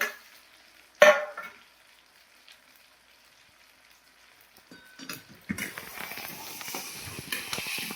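A paste of amla, tulsi, ginger and dates is fried in a pan. A sharp clunk comes first, then near quiet, then a steady, close sizzling hiss that builds and holds for the last few seconds.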